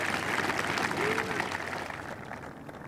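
A golf gallery at the 2001 Open at Royal Lytham & St Annes applauds a birdie on the 13th with steady, dense clapping that slowly fades, while a commentator talks over it.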